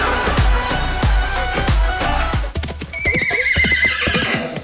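Horse neighing on a comedy stage, a loud whinny with rapid rhythmic pulses at first, then a higher drawn-out call over scattered thumps, close and without talk.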